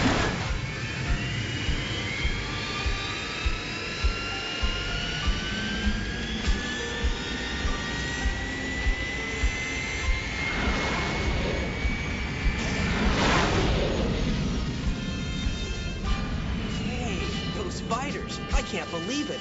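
Cartoon Veritech fighters with reactor-based engines roar past near an aircraft carrier joined to the Robotech ship, rising whining jet tones sweeping up and a loud whooshing pass midway, over a dense, continuous engine bed.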